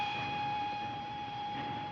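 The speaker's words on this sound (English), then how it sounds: "The train!" Train heard from inside or nearby, a steady low rumble with a sustained high whistle-like tone running throughout, fairly quiet and with no voices.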